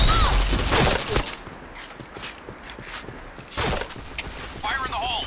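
Gunfire and chaotic effects in a shooter video game, with bursts of shots, footsteps and clattering, while players talk loudly over the action.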